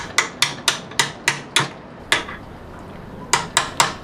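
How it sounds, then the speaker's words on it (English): Sharp chisel strikes ring out as wood is cleared from between drilled holes in a block for a custom rear bike light, about ten crisp, evenly spaced taps close up with a short pause midway. "Now using a chisel, I clean up all of the wood which is in between each of the holes that I drilled."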